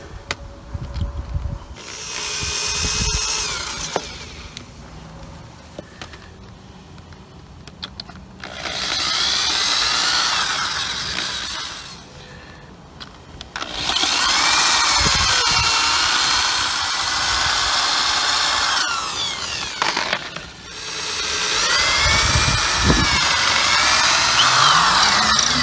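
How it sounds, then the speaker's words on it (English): A power drill bores into metal on a 1936 Chevy Coupe during fuel pipe and pump work, with several long, loud whining bursts of drilling and quieter pauses of clanks and handling between them. "if you push too hard with these, you'll break your drill bit."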